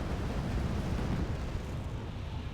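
Gepard anti-aircraft guns fire in the video game Wargame: AirLand Battle, a dense, continuous rumbling barrage that sounds distant and steady throughout, with no distinct individual shots.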